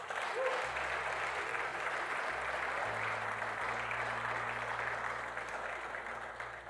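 A church congregation applauds steadily throughout, a dense, continuous wash of clapping with a low sustained hum or organ tone underneath and no talk.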